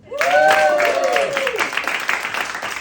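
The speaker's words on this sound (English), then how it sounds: "Clap for Kyle." Comedy show audience at The Bell applauds a performer, a dense burst of clapping that swells then slowly thins over a few seconds, with a voice calling out above it.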